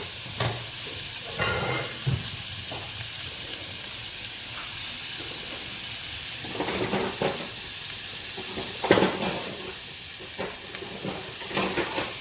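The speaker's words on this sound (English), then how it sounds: "what I'm doing here is just frying this off in its own fat" Bacon sizzles and spits steadily in a hot pan, frying in its own fat, a continuous hiss with occasional louder pops and stirring sounds.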